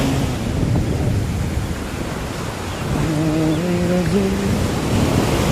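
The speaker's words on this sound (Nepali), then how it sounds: "छालहरू ओ छालहरू आएर" Sea waves break steadily on the shore in a loud, continuous wash of surf, with faint tonal sounds briefly rising over the roar.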